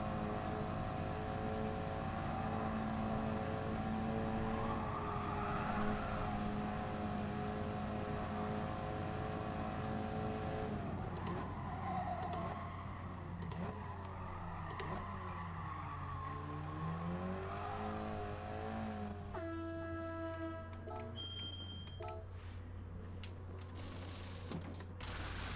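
Race car engine at full throttle in GT Sport, a steady high whine with shifting pitch as the car accelerates through a tunnel on fresh tyres, ending in rapid rising gear changes.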